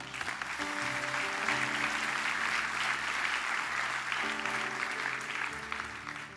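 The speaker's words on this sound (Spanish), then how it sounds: "Denle un aplauso al Rey, sí." Loud, sustained applause from a church congregation at an evangelistic sermon, a thick wall of clapping over a backing of held musical chords that shift partway through, with no voices.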